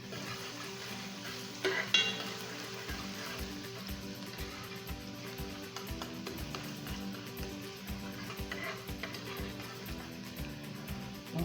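Garlic frying in a pan for a chicken butternut squash rice dish, a steady low sizzle with repeated scraping and stirring strokes against the pan and a brief clatter early on.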